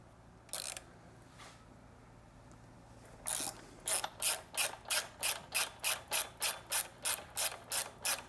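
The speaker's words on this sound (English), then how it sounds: "we want to remove the foot peg mount and bushing using a 12mm wrench" A 12mm wrench backing out Triumph Street Twin foot peg mount bolts, with a couple of isolated clicks followed by a long, steady run of evenly spaced ratcheting clicks, close and fairly quiet.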